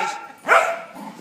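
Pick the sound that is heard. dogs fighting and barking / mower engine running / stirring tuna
dogs fighting and barking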